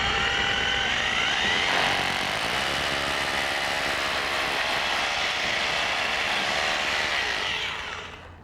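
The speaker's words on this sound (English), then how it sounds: "Now we're going to drill the other corner attachment up next to the wood." A drill bores a corner attachment into wood for a Stealthnet installation, a steady whining motor drone for about eight seconds that winds down at the end, close and alone.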